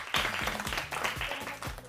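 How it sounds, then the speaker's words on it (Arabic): A studio audience claps steadily for a young boy on a children's show, a regular, close beat of hand claps lasting under two seconds. "يلا صفقوا له صفقه كبيره هالبطل الحلو"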